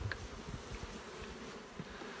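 Bees swarming and buzzing as they are dumped into a queen-rearing cell builder box, a steady low hum with faint scattered wingbeats close by, no voices.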